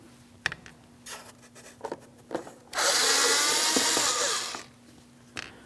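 A screw being backed out of a car door panel on a 2006-2010 Hyundai Sonata: scattered clicks and scrapes, then a loud, steady whir from a power driver for about two seconds, followed by a few more light clicks.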